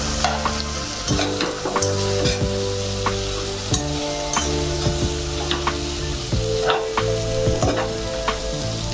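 Noodles are tossed in a hot pan with kitchen tongs, a constant loud sizzle beneath repeated short metallic clicks and scrapes, steady and close throughout.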